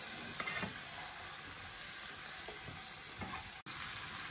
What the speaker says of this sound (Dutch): We roeren dat even door.